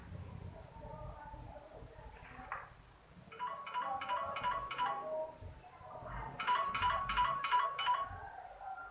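A phone ringtone plays in two bursts of repeated electronic chimes, separated by a short pause, with faint background noise.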